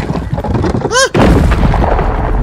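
A video game bomb goes off as a short, punchy boom in the middle of busy in-game noise and a sweeping tonal effect, with loud play sounds continuing before and after.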